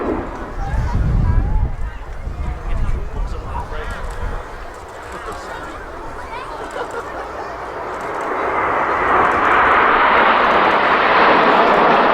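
Red Arrows aerobatic jets roar past in formation at the Teesside Air Show, a broad engine rumble that swells louder toward the end as the formation banks, with a commentator talking over it.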